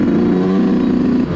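A Yamaha YZ125 two-stroke dirt bike engine on a trail ride holds a loud, close, buzzing drone through the mid-range for about a second before easing off.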